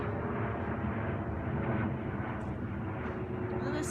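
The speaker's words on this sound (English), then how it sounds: "That's a plane." An airplane passes high overhead outdoors at sunset, a low, steady droning rumble with a faint hum, moderately distant and continuous without any talking.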